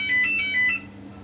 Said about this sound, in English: Should we wait for it to stop ringing?